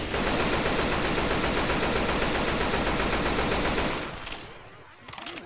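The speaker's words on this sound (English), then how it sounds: "I know that was you shooting me." Rapid, sustained automatic gunfire from Left 4 Dead 2, played on a Minecraft survival map, rattles loud and dense for about four seconds, then cuts off, with a short faint burst following.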